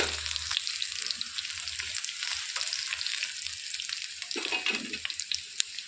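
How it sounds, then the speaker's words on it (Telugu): Garlic cloves and dried red chillies fry in hot oil with tempering seeds for a spicy egg chutney, a continuous close crackling sizzle with a few stirring scrapes and no speech. "ఇందులోనికి 4 వెల్లుల్లి రెబ్బలు వేసుకోవాలి."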